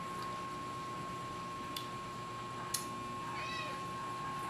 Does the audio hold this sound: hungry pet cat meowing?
yes